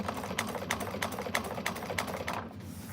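A sewing machine stitches fabric in a quick, even run of mechanical clacks over a steady motor hum, close up, then slows and stops near the end, with no talk.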